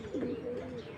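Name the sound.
pigeons cooing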